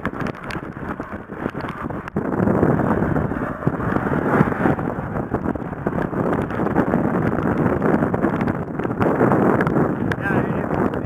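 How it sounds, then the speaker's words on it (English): Heavy crosswind buffets a touring cyclist's microphone during long, heavy rain on the road. It roars as a constant loud rush that swells after the first two seconds and continues to the end. "I have been getting those crosswinds."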